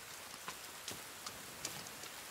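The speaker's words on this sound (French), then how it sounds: "Oh il pleut" Rain falling in a PC video game, a soft, even hiss of drizzle with a few sharper drop ticks scattered through it, faint and with no voices.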